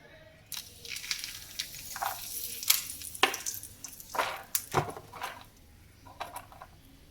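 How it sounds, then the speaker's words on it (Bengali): Two bay leaves dropped into hot oil for a Bengali fish-head mung dal, giving a soft sizzle and crackle with light utensil clinks and stirring, fairly quiet and irregular. "তেল গরম হয়ে গেছে, আমরা দিয়ে দেবো দুটো তেজপাতা"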